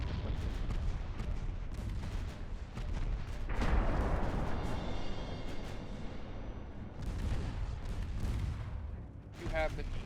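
Naval artillery booms and gunfire in the warship battle game Ultimate Admiral Dreadnoughts, with dense continuous rumbling salvos and bursts, loud and sustained throughout, with speech mixed in.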